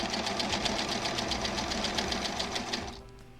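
A sewing machine stitches quilt block seams in a fast, even needle rhythm with a steady motor hum, running continuously and then stopping just before the end, with no talking.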